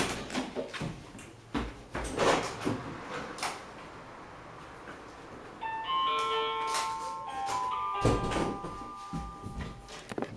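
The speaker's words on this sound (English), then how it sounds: "The red thing you see is the doorbell, like the speaker for the doorbell, which sounds like this." A house doorbell chimes a short run of clear, bright tones in a hallway, ringing out after some shuffling and clunking handling sounds, moderately loud and sustained.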